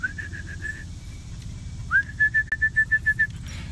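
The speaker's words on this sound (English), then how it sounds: "my recall whistle that I use with her around the house" A dog recall whistle gives two runs of short, rapid pulsed tweets, the second sharper and louder, against quiet room background.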